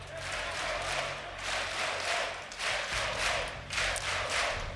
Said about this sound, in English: you can hear the chants in the background there